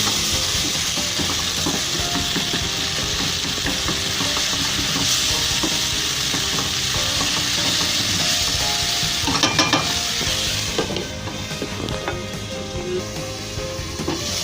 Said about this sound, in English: Make sure your tomatoes cook well before you add anything else.